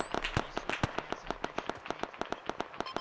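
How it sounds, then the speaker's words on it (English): Rapid sharp pops from ArmA 3 combat come in a fast, fairly even series of crackling bursts, firecracker-like and moderately loud, without talk. "That was grenades."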